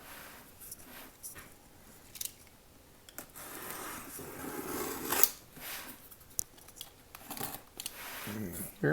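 Paper and cardboard packaging of a mailed Heathkit IP-18 kit being torn open and crinkled, a run of close, irregular ripping and rustling bursts under occasional talk.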